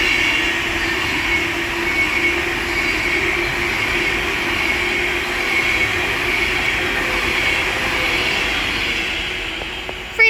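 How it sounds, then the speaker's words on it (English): An Avanti West Coast passenger train on the West Coast Main Line at Stafford, running from Manchester Piccadilly to London Euston, rumbles past nearby in a steady continuous roar with faint wheel squeal, alone without talk. "The next train to pass by is going to be the Avanti West Coast service from Manchester Piccadilly to London Euston"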